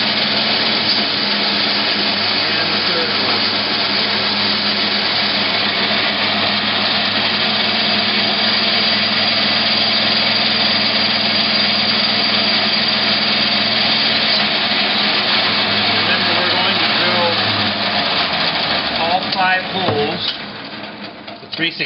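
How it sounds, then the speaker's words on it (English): A power drill whirs steadily at high speed for a long stretch, drilling a 3/16-inch hole for a handle, loud and close, then winds down with a few rattling bumps at the end. "So I'll go ahead and drill the hole."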